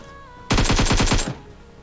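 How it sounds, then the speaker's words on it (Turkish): A short, close burst of automatic gunfire in the video game PUBG Mobile, about seven rapid shots in under a second, loud and alone, followed by a quiet tail. "Sanki şuradan biri sıkıyordu ama."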